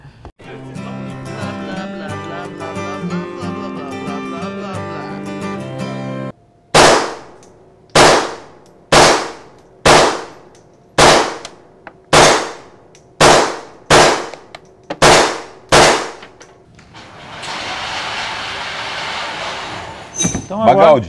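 Gunshots ring out at a shooting range in a steady sequence of about eleven loud, sharp cracks spaced roughly a second apart, each with a short decaying tail, following a passage of music and followed by a hissy lull.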